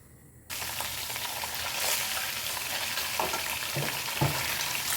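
A steady, close sizzle of garlic and ginger paste frying in a hot pan, with a few soft scraping stirs, no voices.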